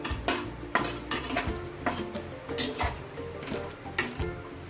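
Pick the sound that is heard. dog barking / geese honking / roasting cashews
roasting cashews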